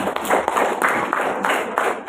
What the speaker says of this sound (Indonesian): Tepuk tangan dulu untuk anak-anak yang luar biasa